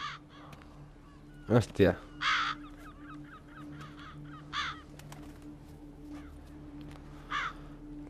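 Crows caw repeatedly in The Witcher 3: Blood and Wine, several sharp calls spaced over a low steady ambient hum, with a brief spoken exclamation among them.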